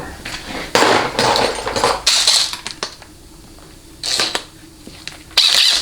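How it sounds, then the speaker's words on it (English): A socket wrench working loose the neutral safety switch on a Chrysler A904 transmission during a teardown, loud clanks and metallic rattles in bursts separated by short pauses, with no talking. "I'm going to take off this neutral safety switch"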